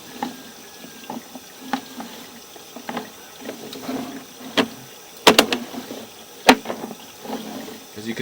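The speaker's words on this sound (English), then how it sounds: "As you can see though, the line has really good water flow." Water running through a repaired residential sewer line, heard as steady trickling and gurgling inside the pipe with scattered louder splashes and knocks from the scope camera, no talking.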